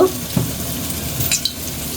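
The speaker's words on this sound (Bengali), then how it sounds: "কড়াইয়ের মধ্যে তেল দিয়ে দিল" Oil sizzles in a wok, a brief close crackle with a light scrape or two of a utensil, lasting only a couple of seconds with no talking.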